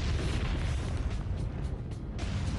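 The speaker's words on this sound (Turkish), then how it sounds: "Böylece büyük bir patlama olur." Deep rumbling boom of a volcanic eruption, a sustained roaring blast of low-heavy noise with crackling bursts throughout, loud and continuous with no speech.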